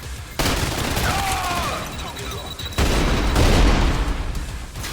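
In the Trepang 2 shooter game, a grenade blast and bursts of rapid gunfire crack and rumble loudly and almost nonstop, with a heavy boom surging partway through.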